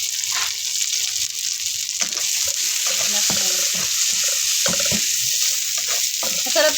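Garlic sizzles steadily in a hot pan with butter while being stirred, with scraping and clinking of the utensil over a continuous close frying hiss.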